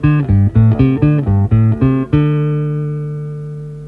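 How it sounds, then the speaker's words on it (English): Bass guitar playing a short run of plucked, fingered notes in a steady, even rhythm, each note struck separately, ending on a long held note that slowly rings out; close, clean and alone with no talk. "Now, if all the notes were fingered or plucked, it would sound like this."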